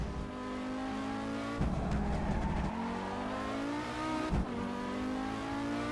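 Audi Sport Quattro S1 in a Pikes Peak racing video game, its engine accelerating hard through the gears with two quick gear shifts and a high, straining note, steady and close with no talk.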